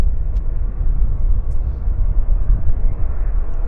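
An aircraft taking off from the north runway at Vancouver Airport, producing a loud, continuous broadband roar and rumble that holds steady throughout with no voices.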